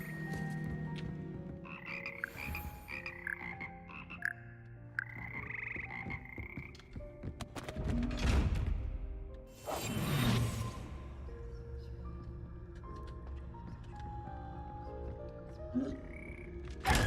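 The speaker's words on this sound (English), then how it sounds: "Frog choir." A frog choir in Hogwarts Legacy croaks in a series of ribbed, pitched calls that rise and fall, with a couple of louder whooshing swells midway, no one talking over them.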